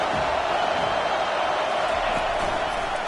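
Stadium crowd noise from a football video game, a steady loud roar of cheering for the defense during a red zone stand, continuous for a few seconds.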